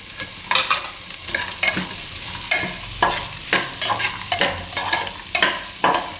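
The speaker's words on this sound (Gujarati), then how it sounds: "બધું આ રીતે મિક્સ કરી લેવું." A spoon stirs mixed vegetables, carrots, cabbage and green beans, in a pot, making repeated close scraping strokes with a light sizzle underneath, no talking.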